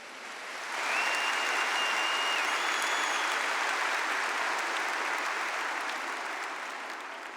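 A church congregation bursts into broad, steady applause that swells quickly and holds for several seconds before easing off slightly, with a few faint whistle-like tones above it.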